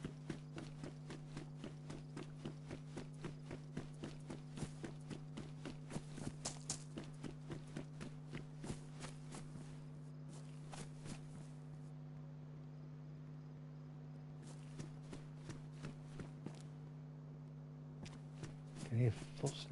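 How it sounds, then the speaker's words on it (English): Footsteps of a character walking in the survival video game DayZ, a steady run of light, regular treads over a constant low in-game hum, with a louder burst near the end. "Can hear footsteps."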